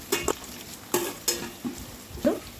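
Curry leaves, onions and green chillies sizzle in hot oil in a pan, with a soft continuous fry beneath several distinct scrapes and knocks of a spoon stirring, close and fairly quiet.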